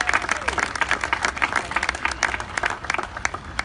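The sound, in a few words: audience applause at ceremony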